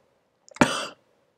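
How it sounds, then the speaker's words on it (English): A single short, harsh cough from a man, opened by a few small throat catches, up close in an otherwise silent room. "He jerkily pulls the cover back onto him and coughs again."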